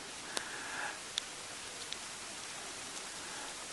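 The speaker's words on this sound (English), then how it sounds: "It's raining at 5:30 in the morning." Faint, steady patter of rain falling at 5:30 in the early morning, a soft continuous wash with a few distinct drips or ticks standing out now and then; no voices.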